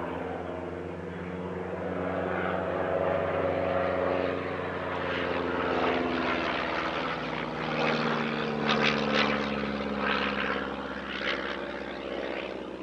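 Vintage de Havilland Chipmunk propeller aircraft in a non-aerobatic display pair at an airshow, engine drone steady and moderately distant for the whole stretch, swelling slightly as the planes pass, with no talk.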